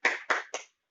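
A group of mothers at a nutrition session claps in a quick three-beat rhythm, each clap crisp and close, then silence.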